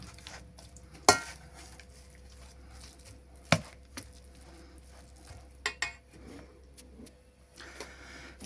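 Zucchini pie filling with garlic being mixed in a bowl, quiet wet stirring and squelching with a few sharp knocks of a utensil against the bowl.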